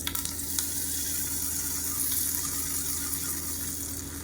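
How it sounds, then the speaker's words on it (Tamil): Hot oil sizzles steadily as mustard seeds, urad dal, dried red chilies and curry leaves temper in a pan for a pearl millet recipe, a close, continuous frying hiss with a few sharp crackles near the start. "கடுகு உளுந்து வரமிளகா கருவேப்பிலை போட்டு தாளித்ததை கொட்டிடுறாங்க"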